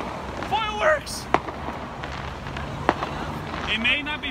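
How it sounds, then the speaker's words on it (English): Firecrackers go off at a minor league baseball game, a few sharp cracks spread through the clip amid crowd noise, with people talking and shouting over it. "And the fireworks going off! Look at this! Fireworks!"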